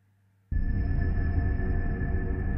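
Synth stab played into a long reverb, bursting in after half a second of near silence and then holding as a dense, sustained wash of texture with steady loudness and no speech.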